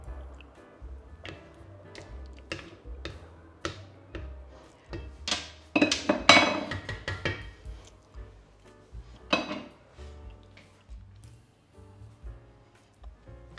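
A cooking pot, just emptied after making moustalevria (grape must pudding), is handled with repeated clinks and metallic taps against cutlery and dishes, close and moderately loud, with a brief busier clatter in the middle and no talk.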